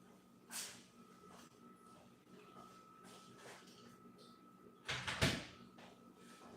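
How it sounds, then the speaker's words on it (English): A door is shut and locked with a short cluster of sharp knocks and clicks near the end, close and moderately loud, over a quiet room hum. "Let me lock the door just in case."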